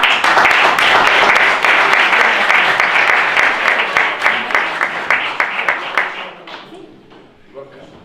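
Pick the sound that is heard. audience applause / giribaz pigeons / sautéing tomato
audience applause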